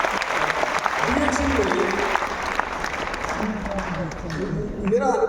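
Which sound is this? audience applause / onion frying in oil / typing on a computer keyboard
audience applause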